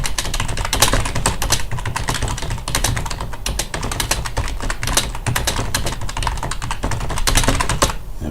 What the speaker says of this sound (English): then you just start typing notes